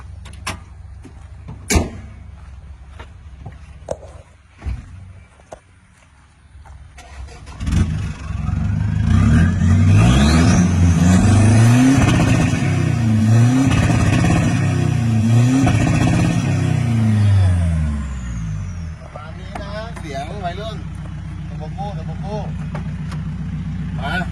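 A Mitsubishi Triton pickup with a turbo setup and ECU tune revs loudly several times, rising and falling, before settling back to idle. Earlier come scattered clicks and a door-like thud.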